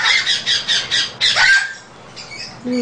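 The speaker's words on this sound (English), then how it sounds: "Bailey, did you want to be a blue gold macaw and not an African gray?" A parrot in a home setting, an African grey or young blue-and-gold macaw, gives a rapid run of about six loud, harsh squawks, then a thin whistle and softer calls.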